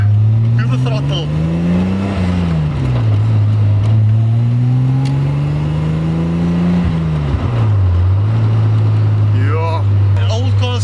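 Straight-six engine of a Toyota Celica Supra under throttle, a loud steady drone rising and falling in pitch as revs climb and ease off across the clip, with faint road noise.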